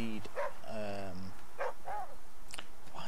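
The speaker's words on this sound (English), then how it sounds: "Why is he barking?" Barking from a dog in the survival video game The Flame in the Flood: several short, sharp yips scattered across the moment, with someone talking over them.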